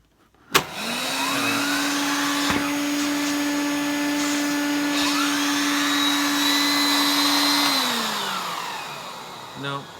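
Vintage Electrolux 330 cylinder vacuum cleaner switching on and running steadily with a constant motor whine for several seconds before winding down, with no talk over it.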